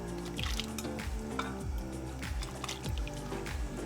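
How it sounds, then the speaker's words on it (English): Soaked basmati rice pours into a pot of boiling water, with repeated soft wet plops, drips and bubbling close by at low volume. "I'm going to pour my rice that's been soaked"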